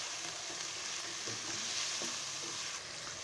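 Mutton frying in a pan with spices for achari gosht, a steady close sizzle with scattered scraping stir strokes throughout, no talk.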